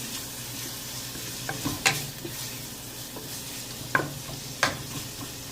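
Carrots being mixed in a pot for beef vegetable soup, with a continuous sizzle and a few sharp scrapes and knocks of a spoon against the pot, close and even, with no talk.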